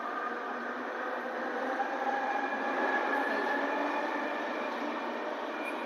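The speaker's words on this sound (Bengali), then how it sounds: "এই যে একটা ট্রেন ছেড়ে দিলাম" Metro train pulling out of Dakshineswar station, a steady loud rumble and whir of the rail cars that holds evenly throughout with no voices over it.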